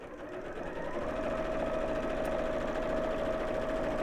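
A sewing machine stitches a messenger bag in a continuous, even whirring run, moderately close and steady, with a faint high tone threading through the motor's buzz.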